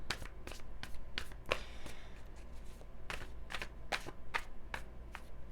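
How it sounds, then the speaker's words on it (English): Tarot cards shuffled and drawn by hand, a quick run of crisp slapping riffles and flicks over a steady low room hum, close and moderately loud, with no voices. "I'm going to start with pulling a couple cards for your energy"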